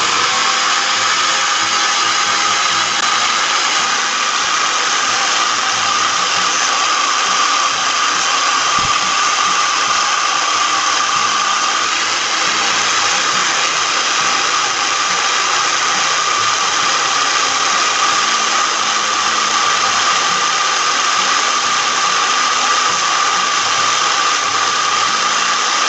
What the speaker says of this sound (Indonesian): Oke, sini kita amplas pelan-pelan.